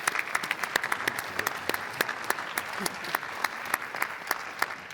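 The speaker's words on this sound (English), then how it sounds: "she and her team, of course, deserves a round of applause" Scattered applause from a small audience at a panel conversation event, individual claps popping out sharply over a faint background murmur, moderate in loudness and fairly steady throughout.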